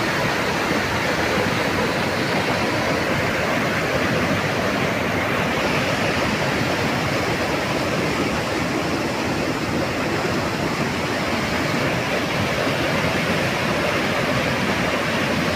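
A river swollen by torrential rain overflows and rushes along in Naigaon, carrying trees and debris, a loud, continuous roar of turbulent water close by with no voices.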